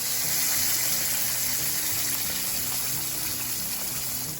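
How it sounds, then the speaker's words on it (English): Gravy pours onto baked cube steak in a skillet, a continuous, broad liquid rush with a steady sizzling hiss that holds loud and even throughout. "and then I'm going to pour it on my steak."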